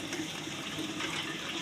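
A vegetable being rinsed clean of soil and sand in water for a winter dish, a continuous close splashing and sloshing wash with no one talking.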